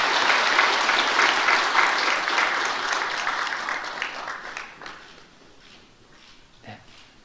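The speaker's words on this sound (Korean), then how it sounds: "박수로 축하하겠습니다" A church congregation applauds in congratulation at a certificate ceremony for a Bible study course, with loud, dense clapping that gradually thins and fades into a few scattered claps.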